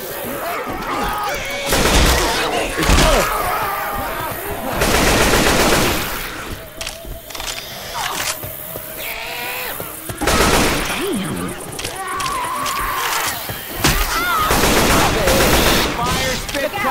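Game gunfire in Left 4 Dead 2, with bursts of shots and crashing impacts mixed with shouting voices and busy battle noise across the whole stretch.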